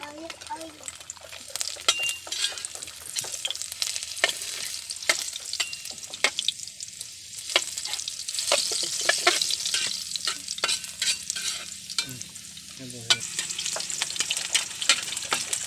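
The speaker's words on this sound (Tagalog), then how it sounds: "kapag mainit na yung kawali saka natin lagyan yung oil at sumunod gisahin na yung bawang at saka yung sibuyas" Garlic and onion sautéing in oil in a hot pan, a close sizzle broken by repeated scraping and clacks of stirring, with a voice talking faintly at times.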